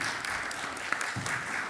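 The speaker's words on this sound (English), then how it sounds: "Please give a big round of applause for Frederick Lawson." Steady applause from a boxing press conference audience: continuous, moderately quiet clapping with a few sharper individual claps standing out.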